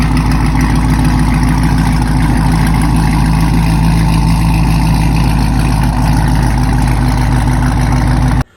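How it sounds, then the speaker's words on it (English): A catless V8 engine idling with a loud, steady low rumble and even throb, close to the microphone, running continuously before cutting off abruptly at the end. "there's nothing like waking up in the morning hearing this catless V8"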